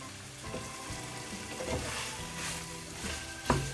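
Chopped tomatoes and a potato go into a frying pan while cooking a fish curry with pointed gourd; a steady close sizzle with scraping stirring runs throughout, ending in a brief clatter.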